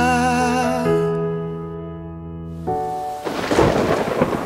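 Sustained musical tones fade out, then a heavy rumble of thunder rolls in with pouring rain hissing loudly.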